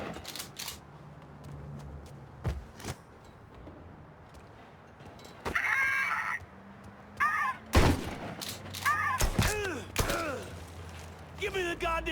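Gunfire during a shootout in the video game Mafia III, scattered sharp shots, some single and some in quick clusters, against a quiet background hum.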